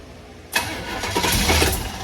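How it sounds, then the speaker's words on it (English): A carbureted engine in a 1932 Ford Roadster hot rod with four IDF carburetors cranks briefly, then fires up and catches into a loud, rough idle, heard close. "we're hoping this is going to just go blah and fire up"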